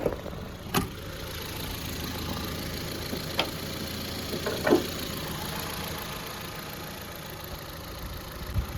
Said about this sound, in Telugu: మీరు ఇంజన్ సౌండ్ అయితే వినొచ్చు.